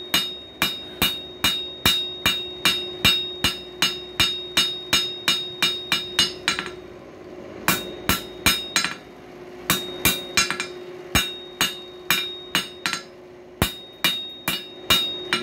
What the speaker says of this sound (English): Push and pull the metal with your hammer.